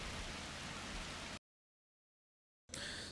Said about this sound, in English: So we'll immediately get some rain down on there and put that fire out.